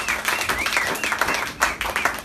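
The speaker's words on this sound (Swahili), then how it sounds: "Pigia Bwana makofi makubwa." A church seminar congregation clapping loudly for the Lord, dense, fairly close rhythmic applause with faint voices mixed in.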